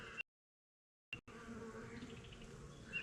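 Honeybees buzzing on a frame lifted from a small two-frame hive, a close, continuous hum that starts after a brief dropout, with faint higher whines from individual bees.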